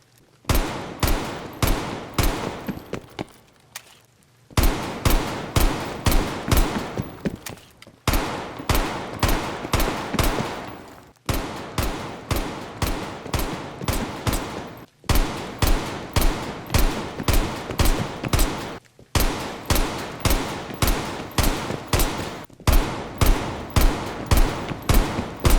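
Rapid automatic gunfire in the video game Black Ops Cold War, heard as loud, dense bursts of shots. The bursts repeat almost without pause and are broken only by brief gaps, with no talking.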